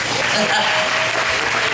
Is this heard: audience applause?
yes